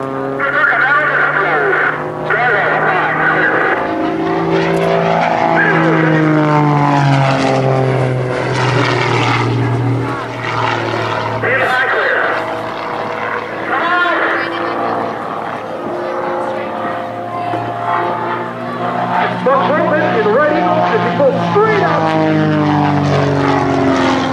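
Propeller aircraft of the Red Eagle aerobatic team roar loudly and continuously through maneuvers at an air show, engine pitch rising and falling as the planes pass, with faint voices mixed in.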